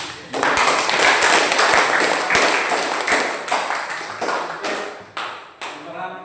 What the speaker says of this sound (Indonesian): yang diskusi yang terakhir kelompok 4 kita beri aplaus